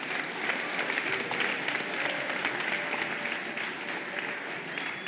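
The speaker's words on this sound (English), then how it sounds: "give these gentlemen a round of applause" Audience applause after a Boys State candidates' debate, a dense, even round of clapping from a hall crowd filling the full length, moderately loud and without talk.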